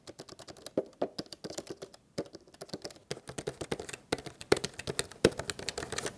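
Button clicks on a Blackmagic Micro Color Panel, a rapid irregular run of crisp close taps, some louder than others, with no talk.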